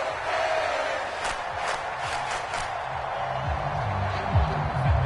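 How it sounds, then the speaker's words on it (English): Roar of a college football stadium crowd before a third-and-long play, a broad sustained din with a few sharp bursts of clapping or shouts rising out of it early on. "This crowd turning up the decibel level."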